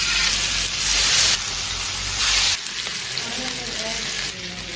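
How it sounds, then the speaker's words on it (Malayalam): Chicken pieces fry in hot oil for a biryani, a steady sizzle and hiss that swells louder in two bursts and then settles back down, with a voice speaking faintly underneath. "നമ്മുടെ ചിക്കൻ ഇവിടെ ഫ്രൈ ആയി കഴിഞ്ഞു."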